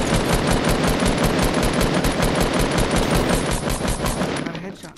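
Loud, continuous machine-gun fire from a video game, a rapid unbroken stream of shots that fills the moment and fades slightly at the end.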